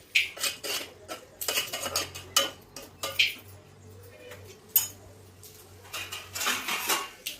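A spoon scrapes and clinks against a pan while tomatoes are stirred into potato curry, with repeated irregular metallic knocks up close and quieter pauses between.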